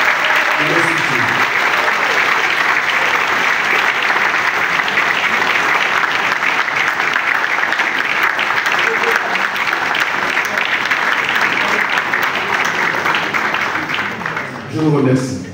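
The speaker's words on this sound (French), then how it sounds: "je veux un standing ovation" A ceremony audience gives a standing ovation: loud, sustained applause from a large crowd in a hall, steady throughout and tapering briefly near the end.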